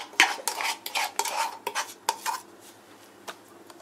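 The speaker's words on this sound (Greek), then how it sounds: "Βάζουμε την υπόλοιπη σαλτσούλα από πάνω." A spoon scrapes and clinks against a dish while leftover sauce is spread over a doughless pizza topping, a quick burst of close metallic rubbing and tapping that fades into quieter scraping.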